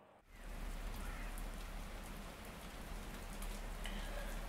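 Steady rain falls outside a window in an audio drama. A dense, even hiss of drops starts after a brief quiet moment and continues softly with no voices.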